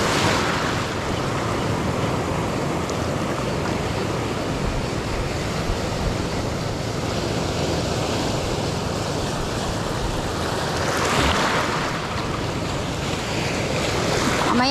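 Big ocean waves crash onto a rocky shoreline at a fishing spot, a loud, continuous roaring wash of surf mixed with wind buffeting the microphone, with a stronger surge breaking near the end.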